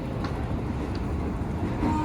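Steady low rumble and rattle from inside a KRL commuter train pulling into Tanah Abang station, with a faint squeal of brakes near the end and a couple of short high ticks.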